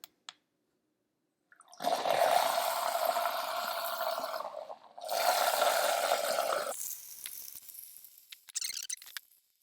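A VOLTRX USB-powered shaker cup runs its motor to mix a protein drink with a loud whirring, sloshing churn in two long bursts separated by a short pause, followed by faint clicks and a brief rattle.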